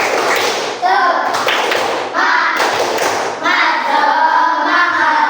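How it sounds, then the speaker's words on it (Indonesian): Children in an Islamic religious education classroom chant in unison and clap in rhythmic bursts for the 'tepuk semangat' routine, their voices loud and close with pauses between phrases. "Tepuk semangat 1"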